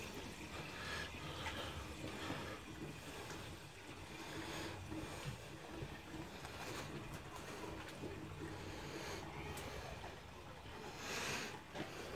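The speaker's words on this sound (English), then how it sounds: "Basically, we've got water running through here." Water flows steadily through an aquaponics system growing lettuce, a constant wash of running and trickling water that lasts throughout, with faint talk in the background.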